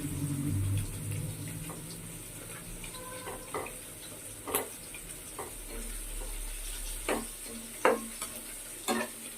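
Onions sizzle steadily in a pan on a home kitchen stove, a close broadband hiss punctuated by occasional scraping stirs and light utensil clicks, with no talking.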